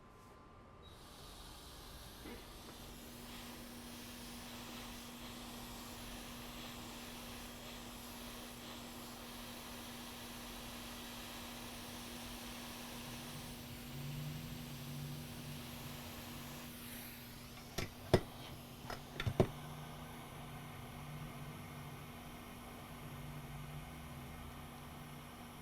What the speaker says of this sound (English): put the board in the ultrasonic machine